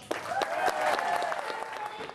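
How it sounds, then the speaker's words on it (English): Brief burst of audience applause at a Make It Big evening show for the act Feeding the Fish, scattered claps over a sustained tone, with some background voices. "Give a warm round of applause, please,"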